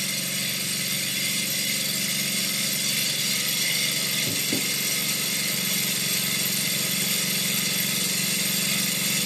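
A small toy Stirling engine whirs steadily and loudly throughout, a constant mechanical drone with a faint buzzing hiss and no talking.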